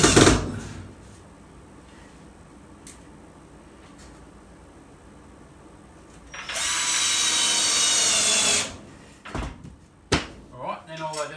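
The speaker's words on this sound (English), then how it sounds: "Sink a couple more screws in and that's her." A power drill drives a screw into wood in a quiet room, a loud sustained whir lasting about two seconds, with scattered knocks and a voice before and after.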